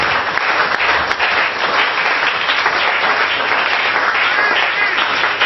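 A church congregation applauds with sustained, dense clapping that stays loud and even from start to finish.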